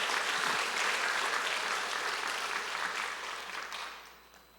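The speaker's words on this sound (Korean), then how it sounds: "옆에 쳐다보고 박수를 더 뜨겁게 한번 해줘요" A church congregation at an evening revival meeting claps warmly, a loud dense wash of hands that holds steady, then tapers off near the end.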